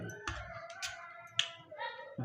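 A few sharp, separate hand claps, about four, land in a loose rhythm at home while a voice sounds between them.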